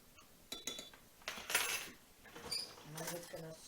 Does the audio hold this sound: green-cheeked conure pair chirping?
no